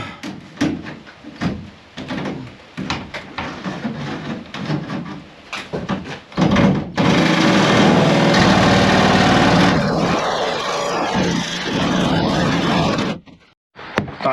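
A jigsaw cuts a window opening through a van's sheet-metal panel, starting with choppy bursts and then settling into a loud, sustained rasping buzz for several seconds before stopping abruptly.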